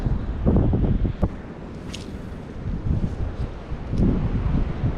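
Strong wind gusting across a lakeshore during bank fishing for crappie, a steady low roar and rumble against the microphone that swells and eases in surges, with a few sharp knocks and no speech.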